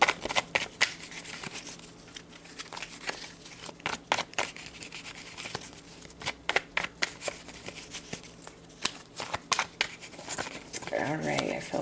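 Tarot cards being shuffled by hand, a run of quick papery riffles and taps with a bridging flutter near the end, under intermittent talking.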